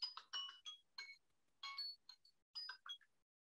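A bell rings in quick bright bursts of electronic chimes at a WONCA World Conference session, repeating in short groups with gaps, alone without talk.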